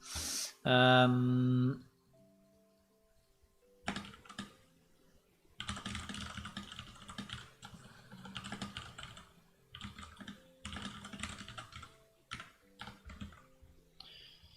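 Typing on a computer keyboard that switches between Italian and English layouts, heard as bursts of fast clicky keystrokes separated by pauses, close and moderately loud, with an opening tonal game sound and no talk.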